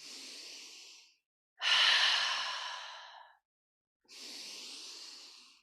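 Slow, deep exhales during yoga breathing, three long airy breaths in succession, the middle one strongest and lasting nearly two seconds, separated by brief silences, close and alone.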